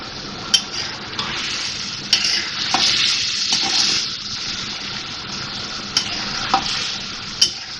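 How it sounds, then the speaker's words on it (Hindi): Whole chilies dropped into a pan of garlic and ginger, frying with a steady bright sizzle, with occasional sharp spatula clacks against the pan. "मैंने लहसुन अदरक के साथ इसको खूब फ्राई कर लिया है और अब ये मैं साबुत मिर्चें डालूँगी इसमें।"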